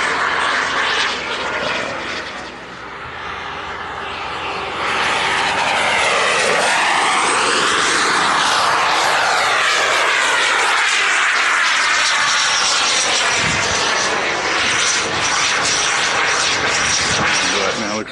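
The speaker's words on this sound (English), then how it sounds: "here's a jet right here coming across. It's putting on a show right now." A jet aircraft roars past at an air show, loud and sustained with a sweeping rise and fall in pitch as it crosses overhead, its engine noise dominating throughout while a voice speaks faintly beneath.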